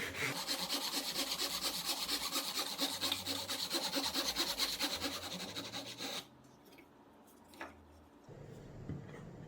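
A hand saw cuts a half-depth lap joint in a wooden lattice bar for a traditional Korean flower-lattice door, with rapid, rhythmic close strokes for about six seconds, then a quieter stretch with a faint knock.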